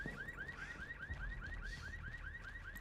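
An alarm in the Lost Judgment video game rings as a fast, regular series of rising electronic chirps. It sounds distant and fairly faint, set over a low rumbling background noise.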